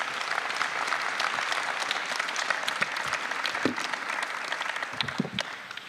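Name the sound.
council applause for newly appointed deputy mayor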